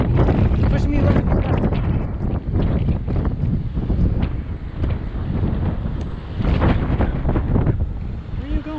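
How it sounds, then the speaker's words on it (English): Heavy wind buffets the microphone during a motorcycle ride through a neighborhood, a loud, continuous roaring rumble with gusty surges throughout. "A lot of wind too. Pushing me left."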